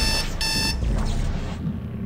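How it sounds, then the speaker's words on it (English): Alarm clock ringing in the horror game Dead Space 2, two loud bursts of shrill electronic ringing in quick succession, then a quieter fading tail. "Was their alarm set for midnight?"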